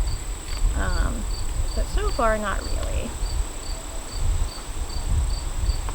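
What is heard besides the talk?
honey bees buzzing during hive inspection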